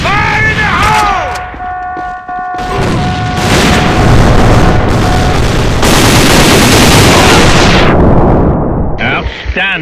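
Explosions and heavy gunfire boom through a tactical shooter match in AvA (Alliance of Valiant Arms) while an E-Boat AK-107 rifle is in use, sustained loud blasts and rattling fire filling most of the span, with a shouted game voice near the start.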